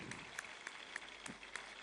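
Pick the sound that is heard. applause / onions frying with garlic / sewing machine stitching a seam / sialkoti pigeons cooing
applause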